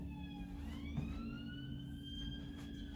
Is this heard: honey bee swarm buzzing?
no